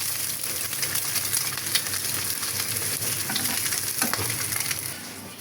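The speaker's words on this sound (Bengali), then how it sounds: "এখানে ডিম ভাজতেছি" Eggs sizzle and crackle steadily in a hot frying pan, a continuous close hiss with scattered pops and occasional utensil scrapes, no voices.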